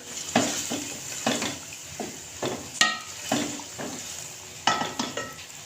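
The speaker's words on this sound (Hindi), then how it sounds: "इसको डालने के बाद मैंने इसको डीप फ्राई करना है।" Green chili paste is stirred in a pan while it fries for chicken karahi, with a soft sizzle under repeated scraping strokes and an occasional clink of a utensil against the pan. It is close, with no talking.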